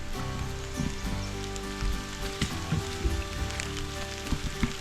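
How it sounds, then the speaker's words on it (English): Heavy rain pours down on a campsite with a family camper trailer set up, a steady dense hiss of drops with scattered sharper patters and a low hum underneath, with no voices. "The rain's getting heavy."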